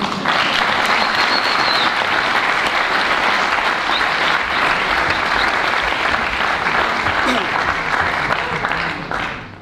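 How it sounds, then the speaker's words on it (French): A theatre audience applauds loudly and continuously, a dense steady wash of clapping hands that holds for nearly ten seconds before tapering slightly at the end. "on va vous demander de nous applaudir avant."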